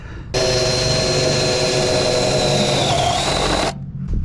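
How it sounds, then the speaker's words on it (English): A power drill whirs loudly and continuously for about three seconds close by, drilling just above the throttle body of a K20/K24 engine in an Acura RSX, its motor pitch dipping slightly under load before stopping. "Let's just drill right there."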